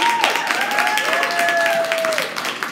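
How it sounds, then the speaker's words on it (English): An audience at a live evening event applauds a speaker, with steady, close clapping throughout and a few sustained tones from a voice or feedback drifting over the top. "Let's give a round of applause for one more time."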